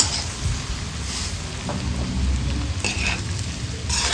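Chilli pork with kachampuli vinegar and masala powders frying over high flame in a pan, a steady sizzle with scraping stirring strokes and occasional clinks of the spoon.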